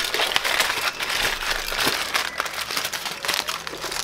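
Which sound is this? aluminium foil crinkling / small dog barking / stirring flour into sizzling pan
aluminium foil crinkling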